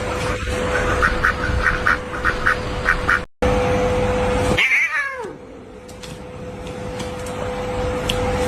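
A duck quacks loudly in a quick series of honking calls, then a cat lets out a drawn-out yowling meow after a short break, both close and clear.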